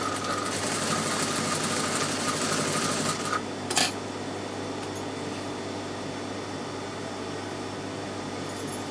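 A sewing machine with a hem foot stitches a hem in a fast, steady whirring run, then stops abruptly; a soft mechanical hum and a brief clunk follow.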